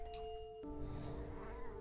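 A cat meows in the video game What Remains of Edith Finch, one drawn-out, close meow over a soft, sustained musical backdrop.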